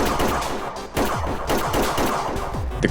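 Rapid volley of gunfire from several weapons fired at a creature in dense foliage, a continuous rattling fusillade of overlapping shots at steady loudness for a few seconds.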